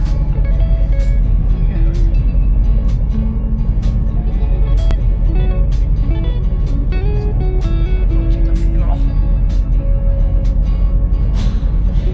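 An old boat's engine runs steadily after a jump start, a loud continuous low rumble close by, with people talking over it.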